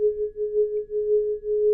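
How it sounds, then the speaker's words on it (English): Isochronic tone from the Harmonal Binaurics synth instrument, a single steady pure pitch that swells and dips in regular soft pulses, heard alone. "technically an isochronic tone is just simply on and off, so probably a square wave or a sine wave"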